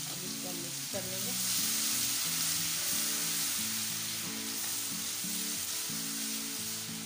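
Ginger garlic paste fries and gets stirred in a white kadai for a chicken korma, a steady broadband sizzle running throughout with occasional soft scraping, close and fairly loud, alongside a tonal musical background and no talking.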